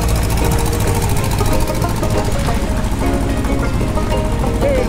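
A sailboat engine idles while warming up with a steady, throbbing chug, close and fairly loud, running alone without speech.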